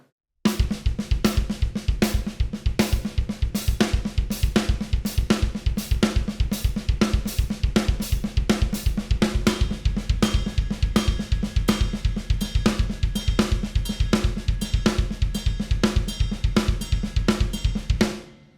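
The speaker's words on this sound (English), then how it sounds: "Same exact thing, but now I'm gonna offset the kick drum." A one-hand, one-foot drum roll with the kick drum offset between hand strokes, a dense, continuous rapid pattern played close and steady for about eighteen seconds before ending.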